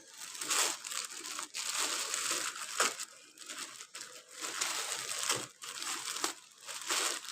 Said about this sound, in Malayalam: അപ്പോൾ നമുക്കൊന്ന് തുറന്ന് നോക്കിയാലോ.